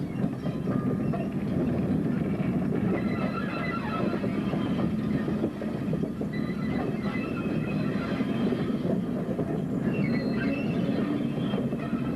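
A British Rail Class 76 electric locomotive, 76022, hauls a train steadily up a gradient on the Woodhead route at close range, a dense continuous roar with faint rhythmic wheel clatter, unbroken for the whole stretch.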